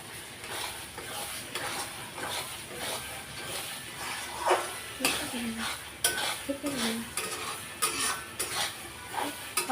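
A spoon stirs chopped tomatoes in a cooking pot for desi chicken, giving repeated scraping and clinking against metal over a soft sizzle, close and moderately loud, with no voice over it.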